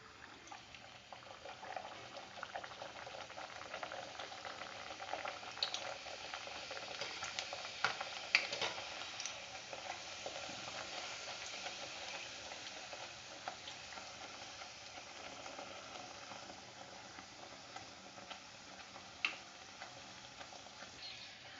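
Puris deep-frying in hot ghee over a medium gas flame, a soft continuous bubbling sizzle with scattered faint ticks and clinks, fairly quiet and steady throughout, with no talking.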